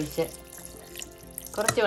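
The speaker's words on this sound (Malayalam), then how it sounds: "നമുക്കൊരു കുറച്ച് വെള്ളം" Water pours into a mixer grinder jar holding masala for quail egg curry, a short running splash near the end after quieter kitchen sounds, with a voice speaking briefly.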